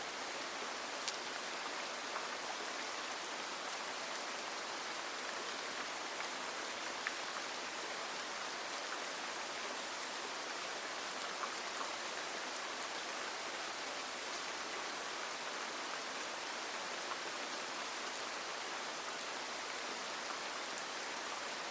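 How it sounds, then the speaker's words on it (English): Steady rain falling, a soft, even wash of hiss with fine scattered drops, continuous and unchanging, fairly quiet and with no voices. "The rain has been falling since before you woke."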